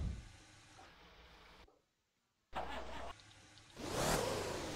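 Car engine in the Motor Town driving game after a V8-to-V12 swap, a medium engine running and revving, cutting out briefly to near silence, then returning and swelling into a louder acceleration whoosh, with no speech.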